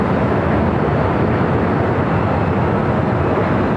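A Frontier Airbus A320neo airliner sits lined up on runway 24 left at LAX, its jet engines giving a loud, steady broadband roar with no break.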